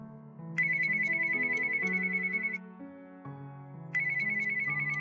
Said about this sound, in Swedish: Två klara toner signalerade ett inkommande samtal.